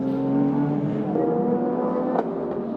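The Peugeot race car driven by Loic Duval at the 2023 6 Hours of Fuji WEC race is recorded onboard, its engine roaring steadily and loudly at high revs with slight pitch shifts, without voices.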